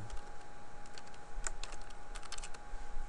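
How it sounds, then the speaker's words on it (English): Close-up typing on a computer keyboard, a quick irregular run of light clicking keystrokes over a faint steady hum, with no talking. "don't mind my typing"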